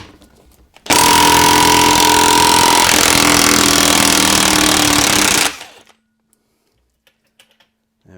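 A powerful impact gun hammers off the timing shaft nut on a Ducati Hypermotard 1100 engine, a loud continuous rattling burst of about five seconds, close up, then stopping into near silence.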